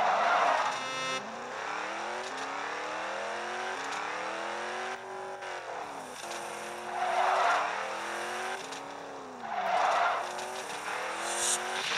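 A black Ford Mustang races in the Rebel Racing game, its engine droning steadily with rising and falling pitch sweeps as it shifts, plus recurring bursts of tire squeal and skidding about every three seconds.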